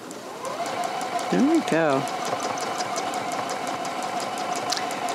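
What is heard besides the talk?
Juki sewing machine free motion quilting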